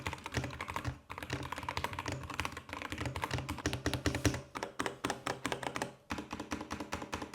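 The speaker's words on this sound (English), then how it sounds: "Quickly, here is a sound test of this gaming keyboard." Someone types rapidly on a budget $30 gaming keyboard with red switches, a close, continuous stream of clacky keystrokes with a couple of brief pauses.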